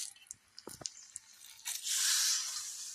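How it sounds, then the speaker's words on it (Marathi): Hot tempering oil with curry leaves and turmeric is poured over ambe dal, a tangy Maharashtrian lentil dish. A few soft clicks and drips come first, then a sudden loud, close hissing sizzle that slowly fades. "मस्त सुरसुरी फोडणी झाली"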